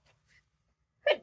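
A single sharp sneeze bursts out loud and close near the end, after a couple of faint breaths, during a fabric leaf craft session at a table.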